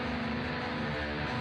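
Guitar strummed with the top string left ringing open instead of muted by the thumb, producing a busy, dense sustained wash of tone that holds steady and fairly loud throughout, with no talk.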